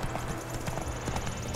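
Hooves of a horse trotting in The Witcher 3 video game, a quick rhythmic clip-clop that is fairly close, alone with no speech.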